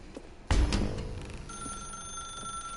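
A telephone bell ringing in the video game The Stanley Parable, a sudden loud ring burst followed by a sustained high electronic tone, close and alone with no talking.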